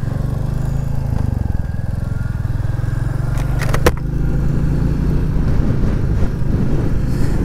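Royal Enfield Classic 350 motorcycle riding along country lanes in the Peak District, its steady low engine thrum constant and close throughout, with a brief sharp crackle partway through.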